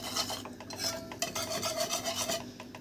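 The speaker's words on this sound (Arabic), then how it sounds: "انا لسه ضربها حالا دلوقتي بالمضرب كده علشان خاطر تفك كلها من بعضها بالشكل ده" A whisk scrapes briskly through flour, butter and oil in a bowl, a rapid rhythmic rasping and rubbing, close and steady with no talking.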